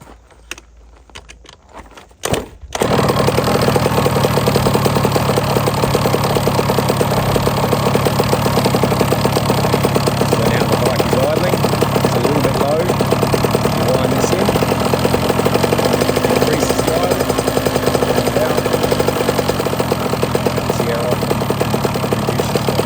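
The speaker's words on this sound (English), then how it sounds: "we start the bike up, we let it idle for a bit" A 2023 MC50 SX/TC 50 motorcycle engine starts after a few seconds of quiet clatter, then settles into a loud, steady idle that runs continuously and close by.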